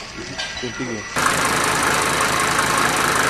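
A car engine cranks and catches after a moment of talk, then settles into a steady, loud running rumble that continues to the end.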